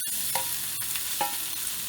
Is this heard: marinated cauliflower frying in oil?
yes